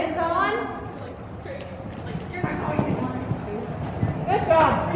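Horse hooves thud over a line of jumping fences during a riding lesson, with coaching and chatter from people nearby running continuously over the hoofbeats.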